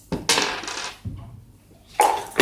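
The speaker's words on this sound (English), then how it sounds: "he will roll 2 dice and needs to hit on a 6" Two dice clatter onto a table during a Leningrad '41 wargame turn, a sharp rattling tumble followed by a softer knock and another bright clatter, close and alone without talk.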